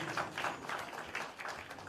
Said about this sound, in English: I need a loud round of applause